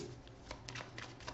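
A deck of Gypsy oracle cards is shuffled in quick, soft riffling bursts at close range, several rustling pulses in a row, with no voices.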